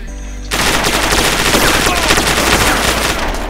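In the survival video game DayZ, sudden close gunfire erupts after a brief quiet moment into a dense, continuous automatic burst that stays loud to the end.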